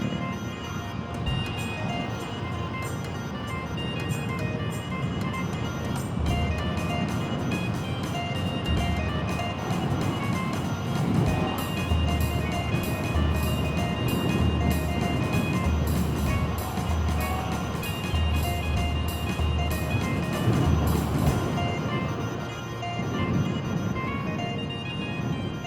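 A Moto Guzzi V85TT motorcycle rides through sand in Dubai, its engine droning steadily and loud throughout with rough, fluctuating revs and wind noise.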